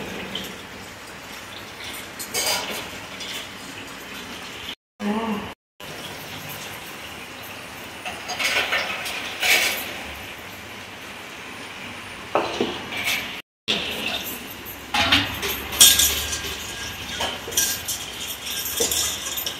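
Lentils are swished and rinsed in a metal pot close by, with soft watery sloshing and occasional light clinks.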